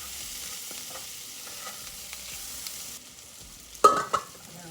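Onions frying in a pan on a home stove give off a soft, steady sizzle, fairly quiet and close, with a couple of sharp clatters near the end and no talking.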